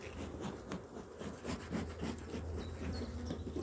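A honeybee trapped inside a beekeeper's veil during hive visits, a close, continuous buzzing with rubbing and brushing noises against the fabric.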